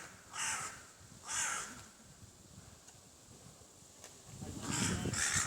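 A young hooded crow caws outdoors in three harsh calls, two close together near the start and one at the end, moderately distant over faint wind noise.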